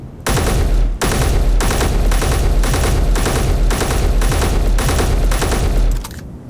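An MR30E elite rifle in Space Engineers fires in rapid bursts, about nine loud, close volleys in an even rhythm with short gaps between them, then stops.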